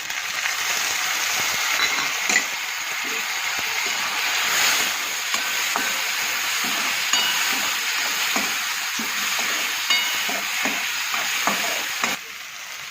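Chopped tomatoes land in a pan of frying onions for a Gujarati guvar and onion curry, setting off a loud, steady sizzle that runs close and unbroken with light stirring scrapes on top, no voices.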